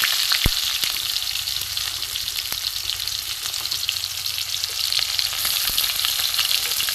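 Onions fry in hot oil with panch phoron, giving a steady, bright sizzle with scattered pops and light stirring clicks, close up and with no voices.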